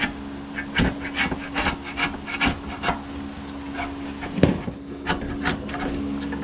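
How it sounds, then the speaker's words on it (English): Scraper rasping old, baked-on gasket material off a pan, in repeated short strokes at an uneven rhythm, close and fairly loud, with no talking. "Okay, I'll get to scraping."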